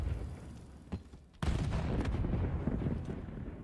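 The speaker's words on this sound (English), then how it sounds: "A lot of frags going off in the background there" Frag grenades explode in a Call of Duty match, a distant thud followed by a heavy, close boom that leaves a rumbling tail, with smaller blasts and gunfire popping in the background.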